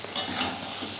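Chicken sautéing with spices in a pan gives a steady soft sizzle, with a brief stirring clink early on.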